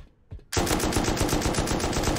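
Sustained automatic gunfire in the survival game Rust: after a brief quiet start with a faint knock, a loud, rapid burst opens up and keeps hammering without a pause to the end.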